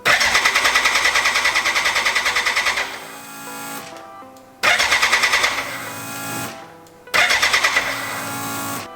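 A BMW K100 motorcycle engine on a cafe racer build cranks on its electric starter in three long, loud bursts with short pauses between them. The starter whirs rhythmically close by, while the four-cylinder engine sputters without fully catching.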